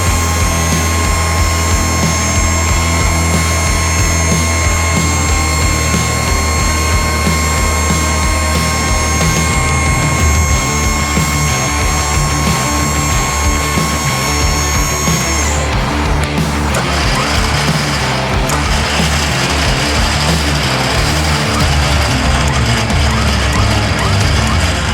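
Switch-N-Go truck dropping its subframe on a cable, a loud continuous mechanical whine and hydraulic hum with a steady tone that cuts off midway, then rattling machinery continues; no talk.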